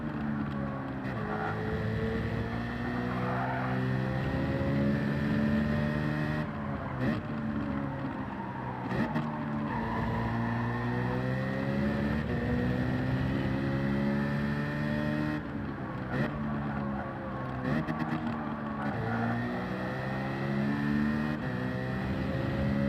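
A race car engine in Gran Turismo 7 revs up through the gears, its pitch climbing repeatedly and dropping sharply at each shift, loud and close in a long continuous run.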